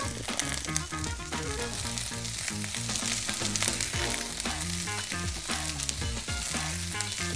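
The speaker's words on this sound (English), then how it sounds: "Sweet pepper. Our thyme, and we're just gonna saute those." Sweet pepper and thyme sautéing in a hot pan for a spicy mushroom rundown, a steady close sizzle and crackle running throughout under prominent background music.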